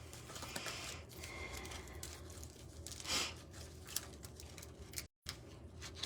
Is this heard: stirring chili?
no